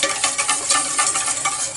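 Oil is whisked drop by drop into homemade mayonnaise in a bowl, making a loud, rapid, rhythmic scraping swish with quick repeated strokes close up.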